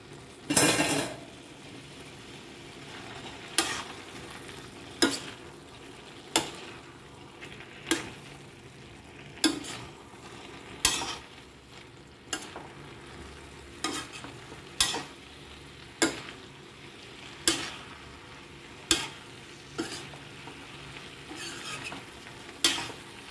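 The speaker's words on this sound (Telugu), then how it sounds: "క్యాబేజ్ సన్నగా తరిగేసాను, అది కూడా వేసి వేయించుకోవాలి." Vegetables and finely shredded cabbage frying in masala in a pan, a constant low sizzle punctuated by regular sharp scrapes and clacks of a spoon against the pan, roughly every second or two, close and without talk.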